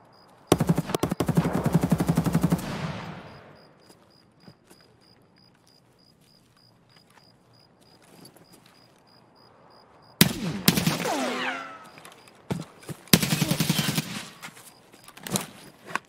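Bursts of automatic RPK machine gun fire in Escape From Tarkov, loud and close: a long sustained burst, a quiet gap, then several shorter rapid bursts with echoing tails.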